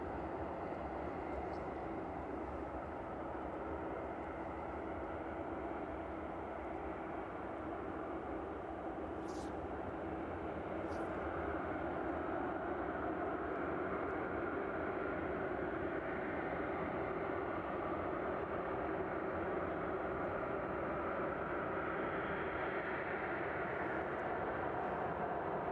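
A West Atlantic Boeing 757 cargo jet approaches runway 27 at East Midlands Airport in the evening, giving a steady, broad engine roar that holds at moderate loudness throughout with no speech.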